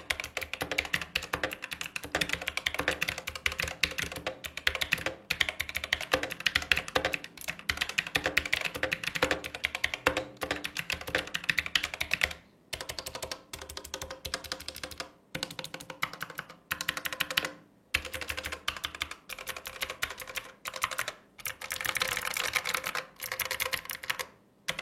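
Fast, continuous typing on a Sades Groza full-size mechanical keyboard with optical switches, crisp clacking keystrokes up close with brief pauses between bursts.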